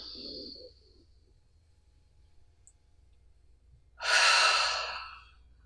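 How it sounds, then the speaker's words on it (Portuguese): Slow, deep breaths during a stretching exercise: a soft exhale at the start, a quiet pause, then a long, loud airy breath near the end, close and alone. "Dá 2 respiradas aí. Sente lá o teu diafragma, solta."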